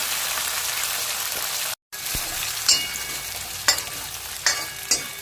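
Small shallots, cut large, frying in a pan, a dense bright sizzle with a momentary break and several sharp spatula scrapes and taps against the pan.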